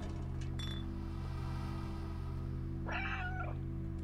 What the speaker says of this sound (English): Why would you meow when they're right nearby